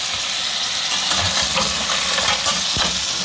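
Mussels stirred in a pan as they cook in their own released liquid, giving a steady loud sizzle and bubbling hiss with occasional scraping knocks of the utensil throughout.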